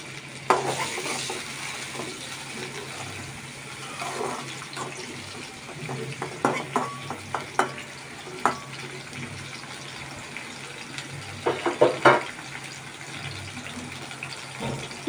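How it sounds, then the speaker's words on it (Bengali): Onions frying in a pan for a shrimp curry with potato and eggplant, a low continuous sizzle broken by scattered stirring clatters and scrapes, close up with no voices. "পেঁয়াজ দিচ্ছি,"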